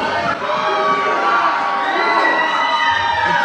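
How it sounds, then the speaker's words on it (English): A wrestling crowd on its feet cheers loudly and without a break at an independent wrestling event, a dense roar of shouts and whoops that fills the whole stretch. "The crowd on their feet."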